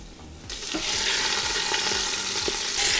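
A prime rib roast sears in a Ninja Foodi air fryer, a loud continuous sizzle and hiss close by, with occasional soft knocks as the meat is turned.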